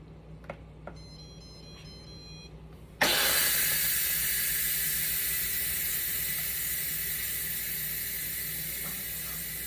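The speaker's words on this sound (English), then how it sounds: "Now we're gonna push the release button and release whatever steam is left." A pressure cooker's release valve opens after a few soft beeps and clicks, bursting into a loud, close, continuous steam hiss that slowly fades over several seconds.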